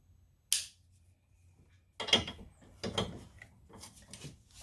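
A 10 mm ratchet loosening the battery strap bolt on a 2015 Chevy Equinox, heard as a quiet, close sequence of clicking ratchet strokes after a brief initial clack.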